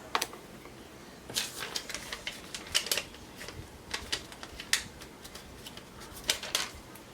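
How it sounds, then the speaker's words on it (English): Clear tape pulled off and pressed down onto a handmade foil card, heard as a series of short, sharp crackly ticks and rips in irregular bursts, close up and moderately quiet, with no talking. "Take my tape again and tape this down."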